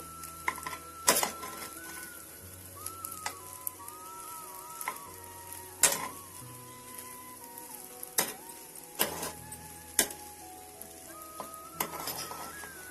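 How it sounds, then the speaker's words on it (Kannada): Cooked rice is stirred in a pan for vegetable chitranna in a miniature play kitchen, giving faint, irregular scrapes and clicks over a quiet, steady hum. "ನೋಡಿ ಹೀಗೆ ಚೆನ್ನಾಗಿ ತೊಳಸ್ಬೇಕು ಅನ್ನ ಹಾಕಿ"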